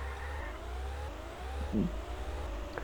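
Engines in the ITC Championship Ultimate Racing 2D2 racing game whine and rise in pitch as cars overtake, with overlapping revving tones sweeping upward and a low rumble underneath.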